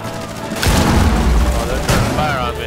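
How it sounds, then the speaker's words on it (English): Gunfire in a first-person shooter video game comes as dense booming bursts, loud and close, with a second sharp shot near the end, while players talk over it. "Oh, they're trying to fire on me."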